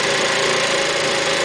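A Stihl SR50 engine held at a steady high rev with the throttle open, a loud, even buzzing drone close by with no pauses.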